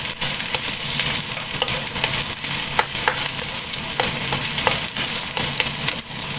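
Whole garlic cloves, crushed, frying in a pan: a steady, dense sizzle with crackling pops running throughout, loud and continuous with no voices.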